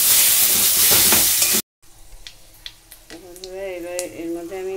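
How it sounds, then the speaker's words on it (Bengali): Potatoes and soybean chunks fry in oil with a loud, dense sizzle that cuts off abruptly, then a softer frying hiss returns under faint tonal kitchen noises. "তারপরে ডিম আলু সোয়াবিন আলুগুলোকে ভালো করে ভেজে নিচ্ছি"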